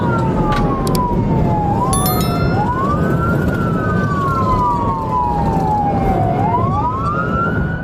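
A loud wailing police siren sweeps up and down in slow repeated cycles, close by, over the steady rumble of a moving patrol vehicle during a chase.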